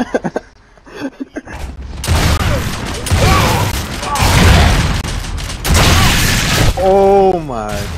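Rapid video game gunfire with booming shots and mechanical clatter, loud and continuous for several seconds, with a brief tonal sweep near the end.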